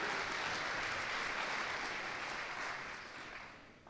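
At a high school awards ceremony, an audience claps and cheers for an award winner in a sustained, dense round of applause that gradually fades toward the end.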